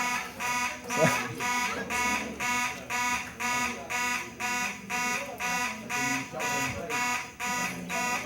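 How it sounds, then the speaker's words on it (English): A fire alarm goes off during a candidate forum in Springfield District, Virginia, a loud harsh buzzing alarm pulsing in a steady rhythm of about one beat per second inside a hall, with voices faintly beneath it. "And you can tell it's a hot topic because I'm setting off fire alarms."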